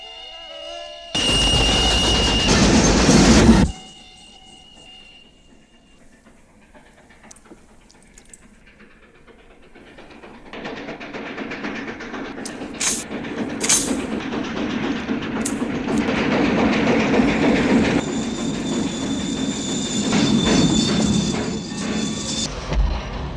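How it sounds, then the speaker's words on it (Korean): Steam train pulling into a station in a western film: a loud broadband blast, like a whistle or hiss, at the start, a quiet pause, then a steady rumble and clatter of the arriving train with squeals and hissing. "기적소리가 들려옵니다"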